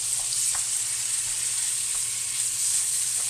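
Garlic and meat browning in a pan give off a continuous bright sizzle and crackle, steady and close with a low hum underneath and no talking.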